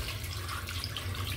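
Water pours steadily into a cooking pot holding goat legs for a spicy paya stew, a continuous close splashing trickle with no voices.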